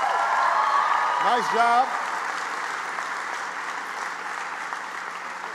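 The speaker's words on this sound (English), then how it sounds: "Give her a big round of applause" Audience applause for Liz Bonacci at a university event at Northeastern, a steady dense roar of clapping throughout, with a brief voice speaking over it near the start.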